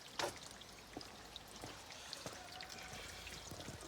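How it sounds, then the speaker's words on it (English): Rainwater runs and trickles through a garden gutter in central Portugal, a faint steady pour with scattered drips and small splashes, one sharper splash near the start, heard from close by. "We've actually got some rain, and the gutter is all working"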